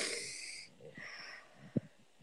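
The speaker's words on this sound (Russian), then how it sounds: "Дыши глубоко." Close, quiet deep breathing from one person: a long airy breath, then softer breaths and a short snort-like exhale near the end, with no talking.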